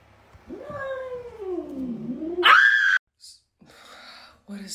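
A cat that has got into a house lets out a long, wavering, rising and falling meow, then a sharper, higher cry, followed by a few short, quieter vocal noises.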